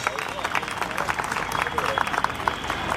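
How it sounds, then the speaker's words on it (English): An audience at a school annual day function claps steadily, a dense, even wash of applause mixed with crowd murmur, moderately loud and continuous throughout. "So please give a big round of applause, please"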